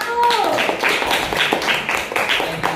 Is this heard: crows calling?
no